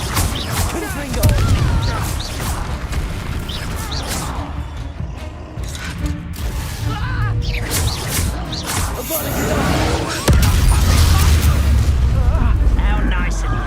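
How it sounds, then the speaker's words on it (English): Confringo blasting spell going off in the video game Hogwarts Legacy, a booming explosion with creaking mechanisms amid dense combat noise and a loud low rumble toward the end, with voices speaking over the action. "Confringo."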